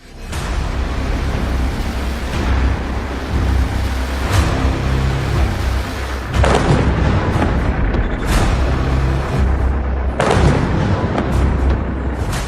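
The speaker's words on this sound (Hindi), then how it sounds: "तेल अवीव में धमाके" Missile explosions in Tel Aviv come as deep booms over a constant low roar, with several sharp blasts spaced a few seconds apart, loud and heavy.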